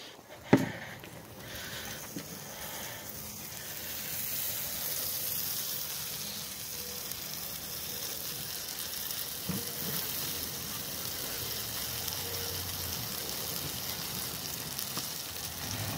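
Steady, loud sizzling of a sandwich frying in a pie iron over a campfire, a continuous crackling hiss that runs throughout with a sharp knock near the start.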